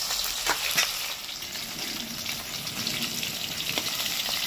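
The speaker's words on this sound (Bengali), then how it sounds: "প্রথমে 3টে ভেজে নেবো, তারপরে 2টা ভেজে নেবো।" Pieces of catla fish frying in hot oil, a steady close sizzle with crackling pops and occasional sharper spits throughout, no voices.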